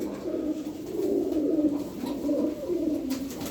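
Pigeons coo continuously close by, overlapping soft throaty calls forming a steady low murmur.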